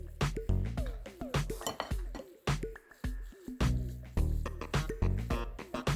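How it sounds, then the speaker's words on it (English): Homemade dog food is stirred in a pot, a spoon clinking sharply and repeatedly against the metal with wet, squishy churning between the knocks. "Now I need to stir this well before I add more layers."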